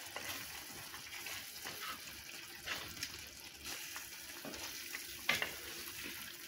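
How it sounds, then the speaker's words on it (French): Ginger, pepper and cumin being stirred in a frying pan for a seafood and whiting-meatball tajine, giving a soft steady sizzle with scraping spoon strokes and one sharper clink near the end. "On mélange encore."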